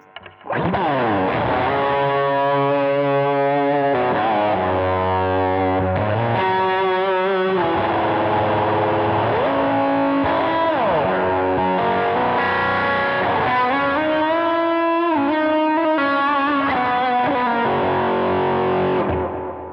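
Electric guitar solo run through a Line 6 Helix with a solo delay effect, sustained distorted lead notes with bends and repeating echo trails, loud and continuous throughout.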